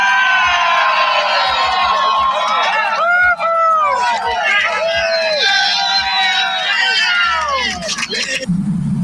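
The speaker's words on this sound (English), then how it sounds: "I want to hear you guys scream at the top of your lungs for Texas" A large crowd at a Texas independence rally screams, whoops and cheers for Texas, a loud sustained roar of many voices with shrill yells rising and falling throughout and swelling again near the end.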